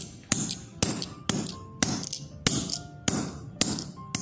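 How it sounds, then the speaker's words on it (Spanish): Sharp hammer blows strike metal bottle caps to flatten them, about eight evenly spaced clanging impacts with ringing tails, close and loud, with no talking. "Y con la ayuda del martillo las vamos a aplastar hasta que queden así bien"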